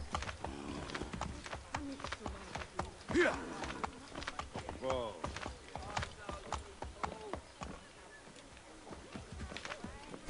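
Horses in the video game Assassin's Creed 3 clop rhythmically with hooves, accompanied by occasional snorts and game sounds, while someone talks over them.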